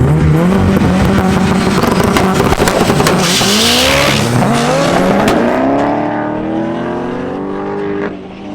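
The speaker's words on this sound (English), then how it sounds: "Who's going to win, the Honda or the" A 500 hp turbocharged D16 Honda Civic and a Corvette launch at a drag strip with a loud engine roar, rising revs through several gear changes and a hiss of turbo blow-off, then fade as they pull away.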